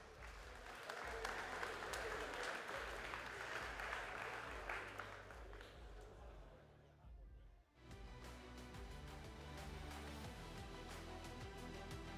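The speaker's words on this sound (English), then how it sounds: "Keep the clapping going, guys. Round of applause." Audience applause at an MMA event, a dense sustained wash of clapping from a large crowd that dips briefly and then resumes, with an announcer's voice over it.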